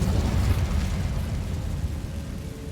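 The Incendio fire spell is cast in Hogwarts Legacy, a low, rumbling burst of flame that swells briefly and then fades over a couple of seconds with no talk.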